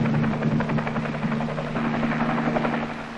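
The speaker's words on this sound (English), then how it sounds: "Three hours later, an ARVN helicopter landed." A military helicopter in Vietnam comes in to land, its loud steady rotor thrum and engine whine filling the scene continuously and close by.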